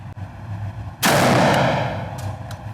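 Mossberg 940 Pro shotgun fires a single loud, close blast of Remington buckshot that ends in a long decaying rumble, after a moment of quiet.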